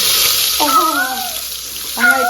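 Onions and curry leaves hit hot oil for a mutton kuzhambu, setting off a loud, close, hissing sizzle, while a voice speaks in two short bursts over it.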